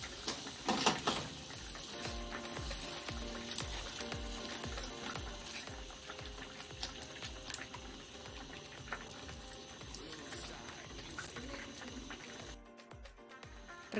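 Soy milk béchamel sauce for eggplant pastitsio being stirred over low heat, a steady run of rhythmic scraping and whisking strokes in a pot. Nobody speaks.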